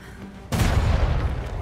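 A ship's bow guns fire in a naval battle game, one sudden heavy boom followed by a rumbling roar of cannon fire that stays loud to the end.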